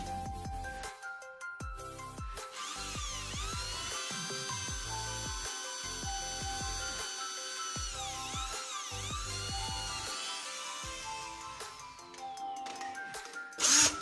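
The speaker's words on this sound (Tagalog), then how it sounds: "Tingnan nyo, butasan mo." Power drill boring a hole with a 3mm bit to take a 2-inch screw, for fitting a kitchen sink cabinet; a steady whirring drone runs nearly continuously for about twelve seconds at close range, with no talking.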